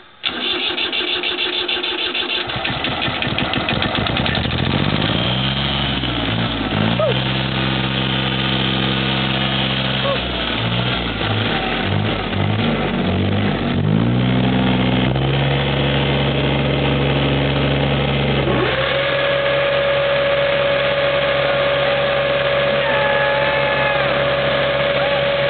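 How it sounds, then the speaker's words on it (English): A small Kubota engine powers a papercrete mixing and chopping machine, starting up and then running loud and continuous with a shifting, throbbing drone for over twenty seconds. "Go, little Kubota, go."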